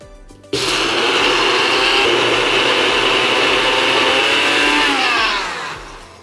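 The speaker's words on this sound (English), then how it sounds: "We're gonna put the Cheetos into the blender." A blender grinding Cheetos starts abruptly and grinds loudly and steadily for several seconds, its motor pitch shifting slightly before winding down at the end.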